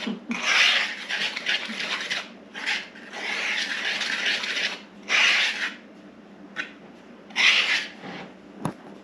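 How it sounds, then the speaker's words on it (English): Cocoa and dry ingredients whisked together in a bowl, producing bursts of scratchy rubbing strokes in uneven clusters with short pauses between, close and moderately quiet. "And then you whisk these together so that they are, well, so they're together."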